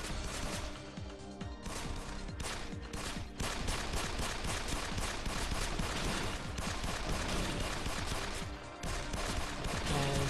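Dense, continuous rifle gunfire in the third-person mecha shooter game Destroy Gunners SP II ICEBURN, rapid loud bursts and crashing impacts filling the whole stretch without letup.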